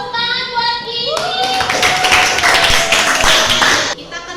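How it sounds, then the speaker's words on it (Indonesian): Students in a classroom clap for a classmate named Kiki. A burst of hand clapping lasts a few seconds, with voices calling out over it. "Tepuk tangan buat Kiki"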